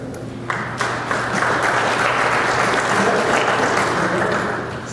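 An audience at a technology presentation breaks into applause that swells and holds steady as a dense wash of clapping, with faint voices mixed in.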